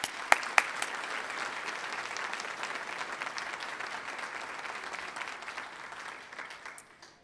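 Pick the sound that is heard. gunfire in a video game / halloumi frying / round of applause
round of applause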